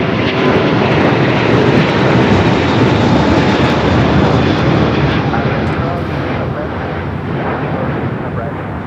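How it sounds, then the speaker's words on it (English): A Korean Air Airbus A380 bound for Seoul roars down the runway on takeoff, a loud, broad, sustained jet rumble that holds steady throughout, with faint voices underneath. "That is Korean Air Flight 18 Super taking off to Seoul on the A380"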